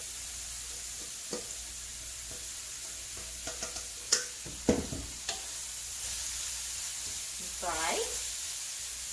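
Cauliflower pieces fry in hot oil with garlic and ginger, a steady broad sizzle with a few scraping stirs and clinks in the middle and a brief squeaky scrape near the end.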